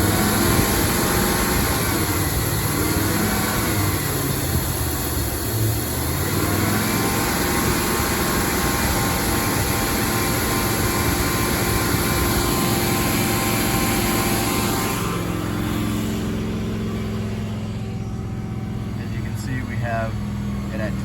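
A car engine starts and is revved up to a steady 2,500 RPM, a loud continuous drone with a slight change in tone near the end.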